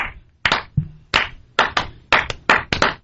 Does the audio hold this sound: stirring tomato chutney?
no